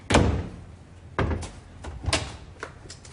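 Several sharp knocks and thuds on a door sound indoors in a domestic setting, coming in irregular bursts a second or so apart, close and fairly loud against a quiet background.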